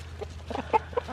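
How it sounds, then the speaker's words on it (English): A chicken clucks softly a few times in short close bursts over a low steady background hum. "I love chickens, you guys."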